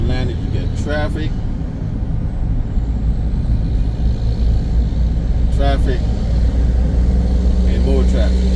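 Car traffic on city roads in Atlanta, Georgia, a loud, steady rumble of engines and tires with passing vehicles, heard under someone talking throughout.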